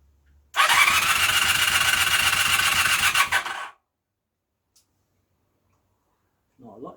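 A Honda CB250N motorcycle that has sat unused for weeks cranks hard on the starter with the choke on, a loud, steady whirring churn lasting about three seconds before it cuts off without catching, then silence.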